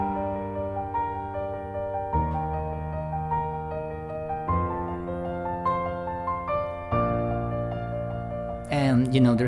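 Piano plays a practiced chord arrangement, sustained chords changing roughly every two seconds with a melodic line on top, close and clear with no talking.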